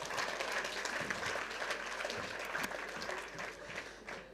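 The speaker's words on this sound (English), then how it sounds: "Another round of applause." Sustained applause from an audience at an evening youth entrepreneurship and leadership event in Ghana, a dense, steady clatter of many hands that fills the whole stretch at even loudness.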